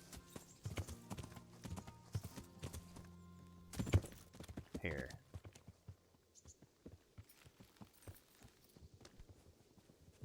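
Horse hooves clip-clop in the medieval video game Kingdom Come: Deliverance, a steady quiet trot of hoofbeats with a brief louder thud and a short spoken word.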